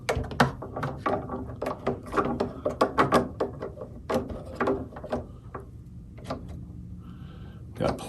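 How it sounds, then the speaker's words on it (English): Small clamps are set in place on freshly glued wood during restoration of a 1928 Stromberg Voisinette, giving a series of close clicks, ratcheting snaps and wooden knocks in an irregular rhythm, with brief quiet gaps. "I got several of the little clamps here that I can put in place."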